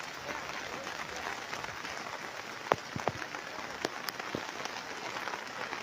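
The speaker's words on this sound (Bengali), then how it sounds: "কি প্রচন্ড কৈলাসের বৃষ্টি হচ্ছে দেখুন।" Heavy rain in Tripura pours down as a dense, even hiss, with a few sharper drips and taps standing out, fairly quiet and without speech.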